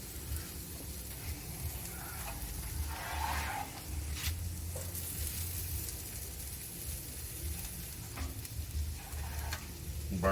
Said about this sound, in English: put a little grease down for the tortillas and a little bit of butter on the grill too